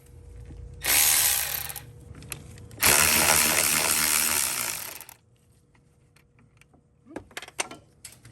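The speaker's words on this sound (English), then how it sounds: "here's our Milwaukee ratchet, 3/8 ratchet, so we can spin these off a little faster" Milwaukee M12 3/8-inch cordless ratchet spinning off bolts during a master cylinder replacement on a 3rd-gen 4Runner or 1st-gen Tacoma, two loud whirring bursts close up, followed by quieter clinks and handling noises.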